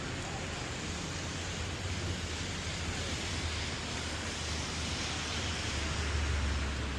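Rain falls over Medellin in a steady, even hiss of dense drops, broad and unbroken throughout, with a low background rumble underneath.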